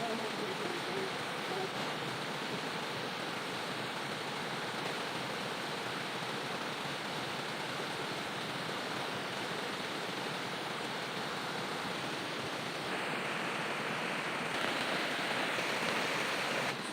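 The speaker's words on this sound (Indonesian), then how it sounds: "Malam ini saya tidak bisa ambil gambar dari jauh karena hujan kembali deras dan air sungai kembali naik volumenya" Heavy rain pours steadily at a riverside campsite during a night of downpour, a dense, even hiss of falling water with the rushing river beneath it, continuous and loud with no talk.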